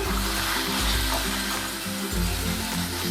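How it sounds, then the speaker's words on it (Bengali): Malabar spinach (pui shak) curry sizzling and frying in a pan while being stirred, a steady close hiss with soft scraping throughout. "ভালো করে নেড়ে চেড়ে নিয়ে"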